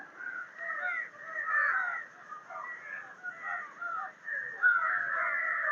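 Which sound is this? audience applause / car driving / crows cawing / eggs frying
crows cawing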